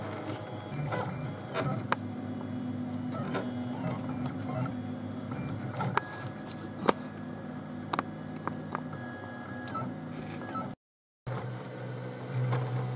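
A DIY Print Rite 3D printer heats its extruder and prints, giving off a steady mechanical hum with stepper-motor whirs, short tonal whines and occasional clicks and beeps, continuous and close.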